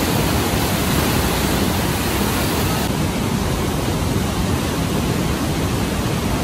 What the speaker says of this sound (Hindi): पार्वती रिवर में भाई पानी बहुत तेज चल रहा है।